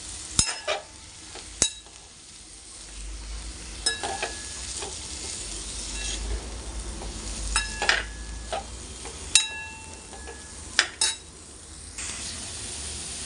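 Cauliflower stir-fried in a pan with roasted peanut powder, a steady sizzle under repeated clinks and scrapes of a spatula against the pan, close by with no voices.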